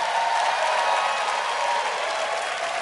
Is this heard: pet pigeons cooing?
no